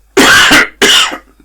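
Two harsh, loud coughs close to the microphone, one right after the other, followed by a faint breath.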